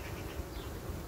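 Honeybee bringing pollen into a colony. A close, continuous buzzing hum with no voices over it.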